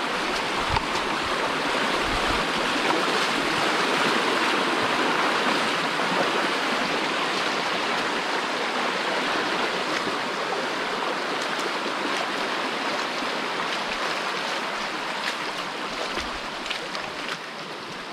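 A waterfall by an abandoned mine roars into a rushing stream, a dense, loud, unbroken wash of water that stays close and constant with no voices.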